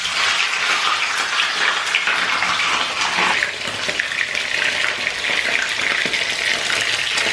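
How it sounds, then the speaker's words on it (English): Fish for Jamaican escovitch fish goes into hot oil, giving a loud, steady, hissing sizzle that stays dense and unbroken from start to finish, with no talking. "we're ready to put our fish in"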